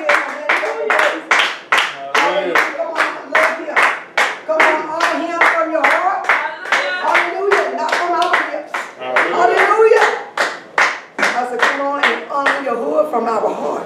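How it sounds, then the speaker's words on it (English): Congregation members clap in unison during a praise service, a crisp, evenly paced beat of hand claps that runs throughout while voices call out and sing over the rhythm. "let's give him a hand clap of praise"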